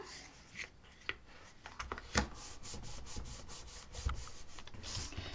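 Quiet rubbing as a glued wooden edge on a shadow window box is burnished, soft irregular strokes with a few small knocks, close and faint.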